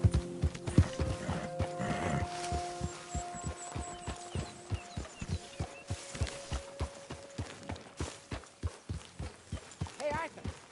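Horse hooves clip-clop in the Red Dead Redemption 2 video game, a steady, evenly spaced walking rhythm of hoofbeats over a low hum, with voices talking near the start and at the end.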